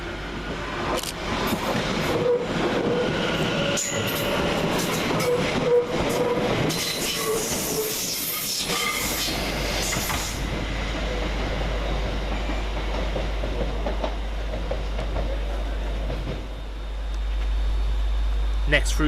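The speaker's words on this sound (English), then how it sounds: "following quickly on its heels is 710109, working the delayed 1828 London Overground service from Chingford to London Liverpool Street" London Overground Class 710 unit 710109 runs through Hackney Downs station, a loud rumble with wheel squeal and clatter that builds and then settles into a steady roll, with station ambience around it.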